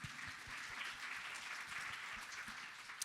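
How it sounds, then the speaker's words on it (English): A museum symposium audience applauds steadily for about three seconds, a dense, even wash of many hands clapping together with no voices over it. "Clap for yourselves."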